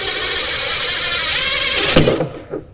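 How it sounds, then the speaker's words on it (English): An impact driver whirs loudly and steadily for a couple of seconds while drilling a hole in a John Deere TX 4x2 Gator, then cuts out, leaving a few clunks and a brief rattle. "We're going to start by seeing if we can get this drilled out."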